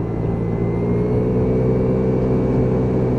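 A Piaggio Vespa PX125 scooter on a test ride runs with a steady, close two-stroke engine drone and low rumbling wind noise, holding a fairly even pitch throughout.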